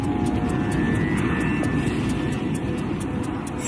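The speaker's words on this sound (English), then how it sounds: "he tries to restart the right-hand engine with a windmill start, using the plane's speed to spin up the engine blades" Loud, steady drone of an airliner in flight during an attempted windmill restart of a right-hand engine, a dense low roar with a faint whine and rhythmic pulsing throughout.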